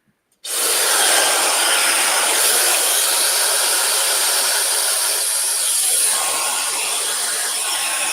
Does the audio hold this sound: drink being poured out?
no